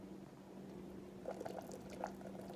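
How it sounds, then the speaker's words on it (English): Ghee cooking in a pan, quietly bubbling and popping with small crackles growing busier toward the end over a faint steady hum. "the ghee is starting to bubble and pop, and there's a white foam that's coming to the top"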